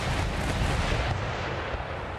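Howitzers firing round shot in an Empire Total War battle against foot artillery, heard as a continuous, dense rumble of booming cannon fire with no pauses, loud and broadband, with no voices over it.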